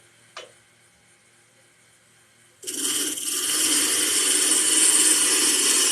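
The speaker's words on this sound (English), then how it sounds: "I'm going to do it pass with the spindle roughing gouge" A spindle roughing gouge bites into a spinning wood blank on a lathe while turning a lidded box without a chuck, a sudden loud, steady hissing shear that starts after a quiet stretch and a single knock.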